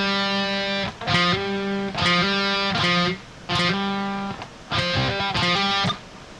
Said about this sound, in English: use a setting with high gain, use a lot of distortion to help out